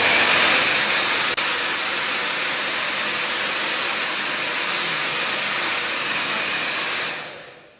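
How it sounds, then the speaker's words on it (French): Steady, loud rushing whoosh of a hair dryer blowing close up, running continuously before fading out at the end. "on va maintenant procéder au sèche-cheveux."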